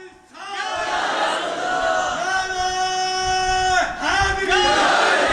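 A crowd at a Friday sermon gathering chants religious slogans in unison, with loud, sustained massed voices rising and falling in repeated call-like phrases.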